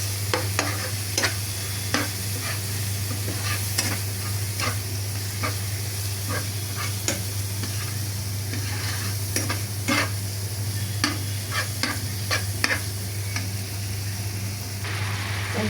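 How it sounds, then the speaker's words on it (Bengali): Chili powder is stirred into a pot of khichuri, with frequent close scrapes and clinks of a spoon against the pot over a continuous low hum and gentle sizzle. "তো আমি এগুলো ভালোভাবে মিশিয়ে নিব নেড়ে চেড়ে।"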